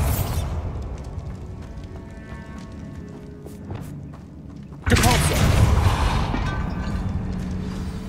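A Bombarda blasting spell exploding in Hogwarts Legacy, a sudden loud broadband blast that cuts in after a few seconds of rumbling game sound and leaves a sustained roar of debris.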